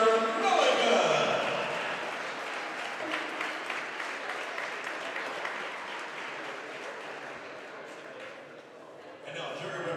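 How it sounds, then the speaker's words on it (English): A gym crowd applauds the Lady Timberwolves of Exeter-Milligan girls' basketball team after a tournament runner-up presentation, a loud burst at first that settles into steady clapping with some voices mixed in. "Let's have a big round of applause for Lady Timberwolves of Exeter-Milligan."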